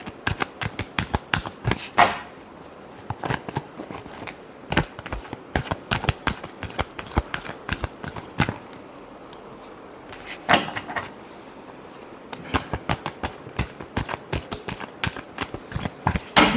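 Tarot cards shuffled by hand in a steady run of crisp riffles and slaps, close and fairly quiet, pausing briefly around the middle before resuming.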